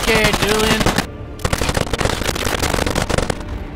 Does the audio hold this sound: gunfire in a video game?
yes